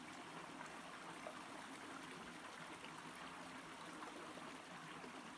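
A stream flows in a natural setting, a steady, even rush and trickle of water that continues unbroken at moderate volume, with no voices.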